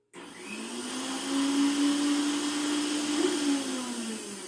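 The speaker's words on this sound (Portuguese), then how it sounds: "Isso mesmo, o som do liquidificador." A kitchen blender runs continuously, a steady motor whine with a rushing whirr that starts abruptly and holds at even loudness, close and alone.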